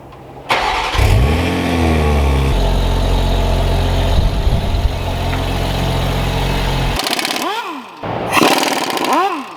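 A widebody Toyota Supra with its exhaust valves held fully open starts and revs hard, loud and close, with rising and falling engine sweeps, a steady high idle, then a pause and two more sharp revs near the end.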